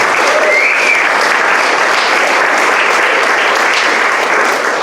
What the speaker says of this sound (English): I would also like to get a round of applause for these fantastic musicians